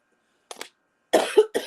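A woman coughs alone, a short double cough followed by a louder, more forceful burst of coughs, close and clear against silence.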